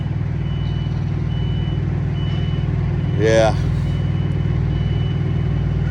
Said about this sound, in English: There's another truck that showed up too.